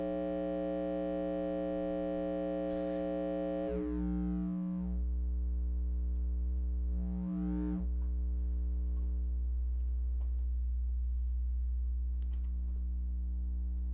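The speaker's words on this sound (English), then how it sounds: "Some pretty nice filtering on that simple sine wave." A steady electronic tone from a sine wave on a Eurorack synthesizer, with rich harmonics, sweeps twice as a MinEQ filter module opens and closes, leaving a low, constant hum.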